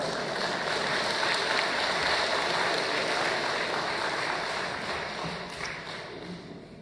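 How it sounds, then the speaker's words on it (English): Steady applause from an audience at an international peace conference, sustained at a fairly even level for several seconds and then easing slightly toward the end, with no voices over it. "Please give Cameron another round of applause."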